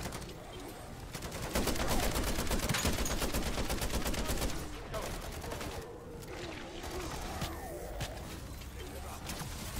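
Rapid automatic gunfire from a weapon in MW3 Zombies, Season 3, rattles in dense, steady bursts for most of the stretch, loud and close, with game ambience and distant bird-like coos underneath.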